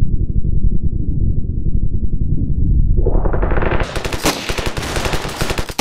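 Shotgun gunfire in the video game Ravenfield: a rapid run of close, loud blasts, sparse and low at first, then denser and sharper with bright crackling reports packed tightly together, with no talking.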